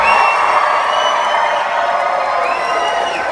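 Wedding guests cheer and whoop together at a loud reception, a dense sustained roar of many voices with a few higher shouts rising above it.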